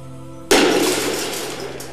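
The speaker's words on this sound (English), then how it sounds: "a standard tempered glass breaks into small, blunt fragments" Tempered car glass violently struck, one sudden loud crash bursting into a dense spray of shattering fragments that tinkle and fade over the next second, close and with no talk.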